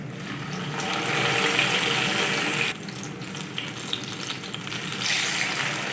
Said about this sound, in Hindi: कबाब हमारे बन चुके हैं, अब हम इनको फ्राई कर लेंगे।